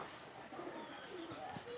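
Native domestic pigeons coo softly at a distance, a few low, throaty calls over a faint background with no talking.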